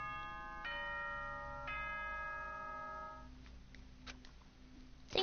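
Two-note announcement chime from the video game Danganronpa: Trigger Happy Havoc, a soft ding-dong of sustained bell-like tones struck twice and ringing out, followed by faint clicks.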